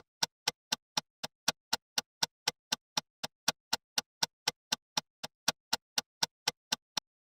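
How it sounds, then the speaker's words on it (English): Crisp, evenly spaced clock ticks repeating steadily about three times per second, dry and isolated with silence between each, a game audio sound effect. "and a third clock sound"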